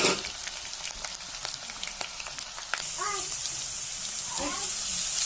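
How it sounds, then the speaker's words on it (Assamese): Onion, garlic and ginger fry in a pan, a soft steady sizzle with scattered crackles and light clatter, faint and close, a brief voice passing over it. "এইফালে মই পিঁয়াজ আৰু ৰচুন আদা দি ভাজি লৈছোঁ"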